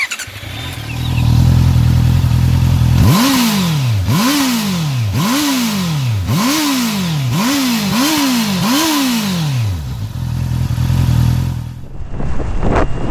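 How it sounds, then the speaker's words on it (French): Honda CB650R A2 motorcycle on its stock exhaust, revved repeatedly in a steady series of rising and falling blips at close range, then settling to a loud idle. "de l'échappement, je le trouve encore vachement correct pour un échappement d'origine"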